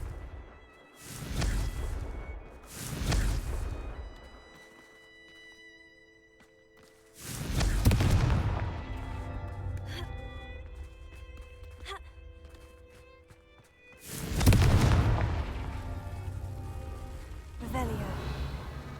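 Confringo fire spells from the video game Hogwarts Legacy blast out as several whooshing bursts separated by quieter gaps, with a voice speaking between them.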